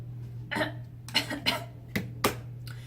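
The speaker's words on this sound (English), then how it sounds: "I have to cough." Several short coughs from someone close by during a makeup session, one isolated burst then clusters a few seconds apart, over a steady low electrical hum.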